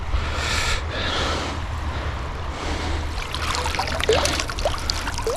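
Water trickles and splashes as a minnow trap is pulled from a pond or creek, a steady close wash of dripping and running water with a few brighter drips near the end.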